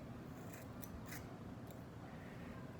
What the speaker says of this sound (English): Take my scissors and I'm going to cut it right there.